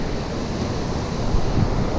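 Ocean surf washes onto a cloudy beach with smallish waves, a continuous loud roar of breaking water mixed with wind buffeting the microphone.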